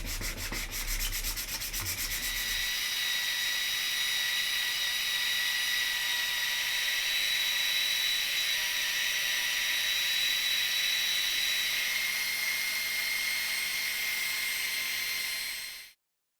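A power buffer with a clean buffing pad polishes the headstock of a Fender Telecaster-style guitar, giving a steady loud high whirring drone with a thin whine. It holds for about fifteen seconds, then the sound cuts off abruptly.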